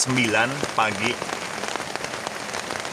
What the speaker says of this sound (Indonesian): berkabut, hujan sedang lah ini